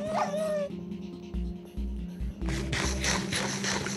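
Dogs in a video game barking and yipping with a whimper, set against steady game music and low thumping effects, fairly loud and close with no talking.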